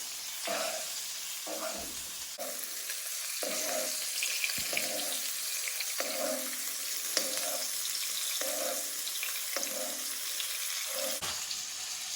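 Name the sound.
steak frying in butter and oil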